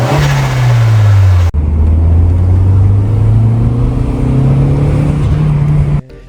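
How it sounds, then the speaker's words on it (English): A turbocharged Audi TT fitted with a K&N air filter revs loud and near, breaks off abruptly, then settles into a steady, slowly rising engine drone before cutting out. "I'll insert the clip of the turbo flutter from the K&N filter"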